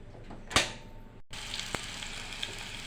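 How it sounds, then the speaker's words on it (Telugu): Hot oil sizzling in a pan, a faint, steady crackle broken by a sharp clatter and a brief gap, then an even, continuous fizz with no talk. "చూడండి, ముగ్గురు పెట్టాను ఆల్రెడీ హాట్గా నూనె కాగిపోతుంది"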